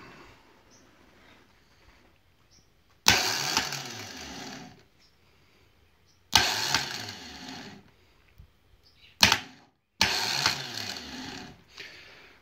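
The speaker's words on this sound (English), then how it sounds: "if I connect that over there, then the starter will turn" A 12 volt starter motor with solenoid spins on a bench test in four separate loud whirring runs, each starting abruptly and winding down, with quiet gaps between.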